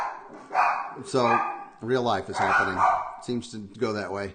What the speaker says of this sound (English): And I apologize for my dogs.